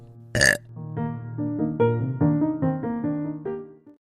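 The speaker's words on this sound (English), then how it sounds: "we don't say what we think, we burp it out" A long, drawn-out burp rumbles on for several seconds after a short sharp burst, loud and close with no other sound.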